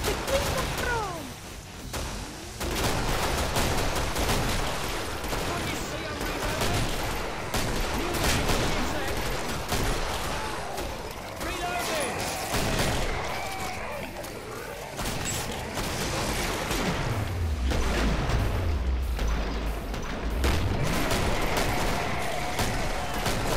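Continuous gunfire while shooting zombies in the video game Killing Floor, a dense, steady barrage of shots and explosions filling the whole stretch, with brief swelling booms and mechanical clatter layered throughout.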